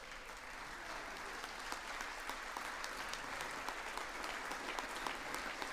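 Steady, sustained applause from a large audience in the chamber during a presidential address to a joint session of Congress, dense clapping heard from a distance for the whole stretch.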